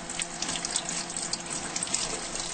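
Potatoes being rinsed in a kitchen sink for Peruvian papas a la Huancaina, with a steady close stream of running water splashing and trickling throughout, no talking.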